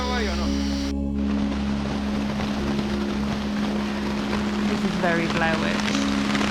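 Torrential rain pours down in the Panama jungle as a steady, loud hiss with wind noise buffeting the microphone, while a person speaks briefly over the downpour.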